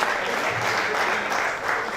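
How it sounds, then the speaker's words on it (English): Audience applause at a World Antimicrobial Day event for a public health pharmacist being introduced, a dense, steady burst of many hands clapping that fills the whole moment. "She's a round of applause for her."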